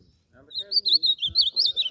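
An azulão (blue grosbeak) sings a lively run of rapid, high whistled phrases and chirps after a brief quiet start, close and clear, with faint low background noise beneath.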